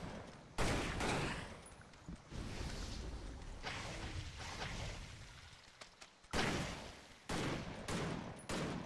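Gunfire in the hack-and-slash action game Victor Vran, rapid bursts of shots in clustered volleys with brief gaps, fairly loud and close, with no talk over them.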